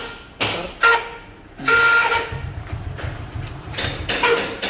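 A motorcycle horn blares in short bursts of varying length whenever the self-starter button, mistakenly wired to the horn, is pressed; the bursts are loud and close, with a low mechanical rattle between them.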